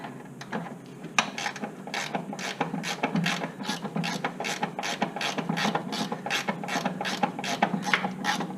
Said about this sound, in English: I can get the rest of it with a regular ratchet.